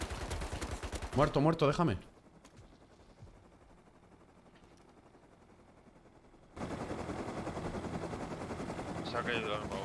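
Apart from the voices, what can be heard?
gunfire from the video game Rust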